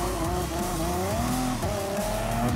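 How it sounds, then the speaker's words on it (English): A Nissan GT-R LM race car in Gran Turismo Sport driving past at Brands Hatch, its high engine note rising and falling across the pass, with faint tire noise and other cars roaring close by. "looks like coming in, pass on the Nissan GTR LM race car"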